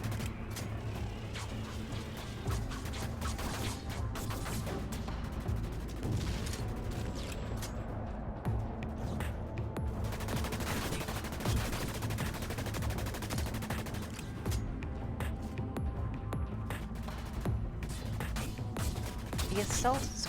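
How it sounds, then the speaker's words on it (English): Burst Scrambler rifle from the video game Dust 514 firing repeated rapid bursts amid a steady wash of game music and battle noise, with voices talking over the gunfire throughout. "The Burst Scrambler rifle fires 3 shots in rapid succession."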